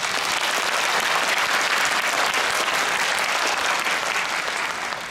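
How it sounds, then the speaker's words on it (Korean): Dense, loud applause from a concert audience in an Olympic Hall for Korean Navy fleet and honor guard performers, a steady wash of many hands clapping that holds for several seconds before easing slightly at the end. "다시 한번 뜨거운 박수 부탁드립니다."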